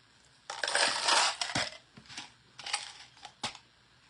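Small pieces of colored glass poured out for decorating a painted pumpkin, heard as a loud clattering, crunching pour that comes in several bursts over a few seconds, close and with no talk.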